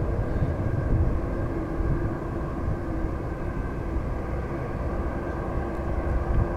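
A steady, broad rumble of jet engines from planes waiting at Madrid Barajas Airport Terminal 4 Satellite, heard at a distance, continuous and fairly loud, with no voices.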